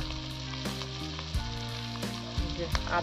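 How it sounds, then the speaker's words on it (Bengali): Small crabs sautéed in a pan with garlic, ginger and a stone-ground paste of coriander, cumin and chilli give a steady close sizzle, broken by a few scraping stirs and knocks of the spatula. "এইবার এটাকে কষাচ্ছি"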